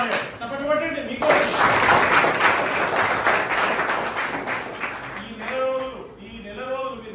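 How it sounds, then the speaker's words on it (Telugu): Students in a motivational class for 10th-grade pupils break into applause, a dense burst of clapping lasting several seconds, with voices speaking before and after it. "చప్పట్లు కొట్టండి."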